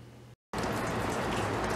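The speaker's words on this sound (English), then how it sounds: "It's been pouring and storming all day." Heavy rain pours down during a stormy day as a dense, continuous hiss that stops for a moment near the start and then resumes loud and steady, with no voices.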